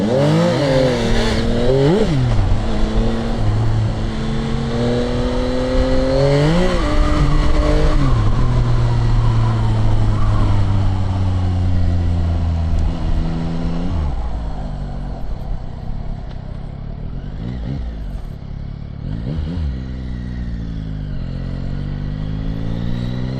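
A Yamaha XSR 900 big motorcycle engine revs and pulls through gears while riding, loud and close, with rising and falling engine pitch as it accelerates and shifts repeatedly.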